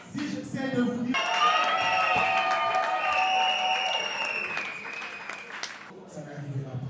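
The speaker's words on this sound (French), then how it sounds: "On peut encore applaudir très très fort pour elle, s'il vous plaît." Applause and cheering from a crowd at a birthday celebration in Kinshasa rise and hold, with sustained clapping and whoops under music and a voice, then fade toward the end.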